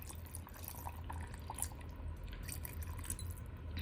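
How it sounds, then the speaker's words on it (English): Cold water poured into a grinder jar holding cooled masala for shahi paneer, a steady, close splashing trickle lasting a few seconds with no talk. "So I'm going to add some cold water in it."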